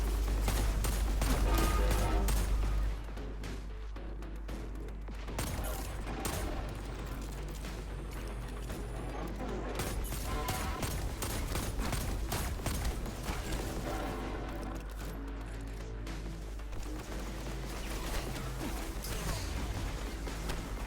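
Hand cannon fire in Destiny 2 comes as a dense run of sharp shots and mechanical clatter, steady and fairly quiet, with a heavier burst at the start.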